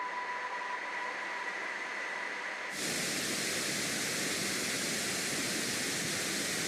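Steady broadband hiss like white noise from a dead cell, a soft tonal hum at first, then a sudden jump to louder, denser full-spectrum static that holds evenly to the end, with no voices.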